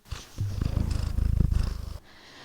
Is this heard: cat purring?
yes